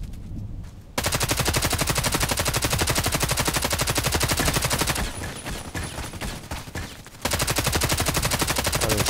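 An HK 243 light machine gun in Contract Wars fires in long, rapid sustained bursts, loud and close. One short pause breaks the bursts, and the firing then resumes.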